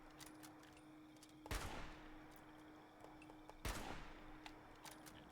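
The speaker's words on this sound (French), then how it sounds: "Attends, on me tire dessus." Gunfire in the video game Fallout 76 arrives as two sharp, loud bursts a couple of seconds apart, set against a faint steady hum with scattered small clicks between.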